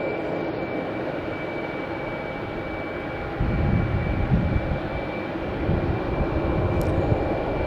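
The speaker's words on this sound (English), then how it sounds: "there's an American Airlines coming in from Chicago." An American Airlines plane inbound from Chicago O'Hare lands at Logan Airport at night, its engines a steady distant roar that swells louder midway through, heard without talk.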